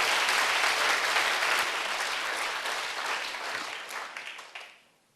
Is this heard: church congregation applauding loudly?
yes